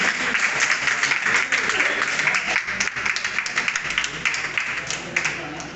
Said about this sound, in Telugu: ప్రతి ఒక్కరు గట్టిగా చప్పట్లతో స్వాగతం పలకాలి.